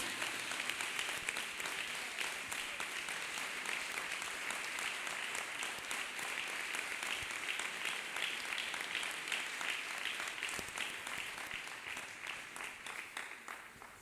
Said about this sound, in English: Let us clap hands for Master Jesus, people of God